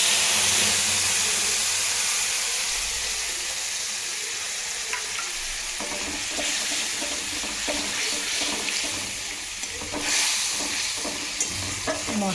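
Whole spices and dried red chillies fry in hot oil in a pan during home cooking, with a constant crackling sizzle and several scraping stirs, close and fairly loud.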